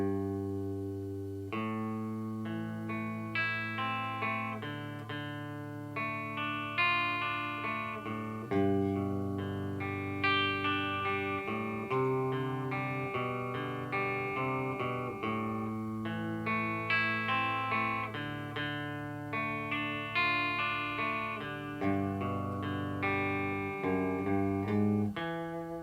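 A guitar plays a full riff, steady picked and strummed chords ringing through a chorus-like effect, loud and alone throughout with no talking.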